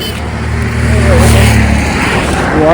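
A road vehicle drives past at close range during a walking pilgrimage, a loud steady engine and tire roar that swells and fades over a few seconds while people talk nearby.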